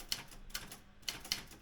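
Keys strike on a Daro Optima M16 typewriter, about five crisp, quiet clacks in an uneven typing rhythm, close and isolated with no voices.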